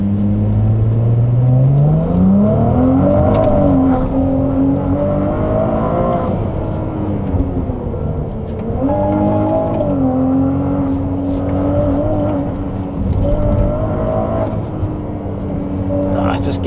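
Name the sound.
Ferrari 296 GTB driving on mountain roads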